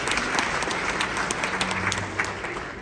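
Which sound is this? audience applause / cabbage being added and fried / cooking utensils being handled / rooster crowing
audience applause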